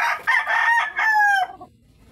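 A rooster crows once, loud and close, a long strained call that drops off at the end into quiet, on a Filipino farm where chickens are kept.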